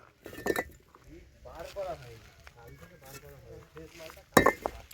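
Hard, stone-like kiln-fired bricks from a brick kiln are knocked together in two sharp, loud clacks, one near the start and one near the end, with someone talking between them.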